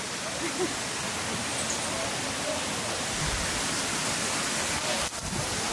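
Water rinsing muddy feet on a rainforest jungle trail in El Yunque, Puerto Rico, a loud, continuous broadband splash and rush of running water filling the whole clip.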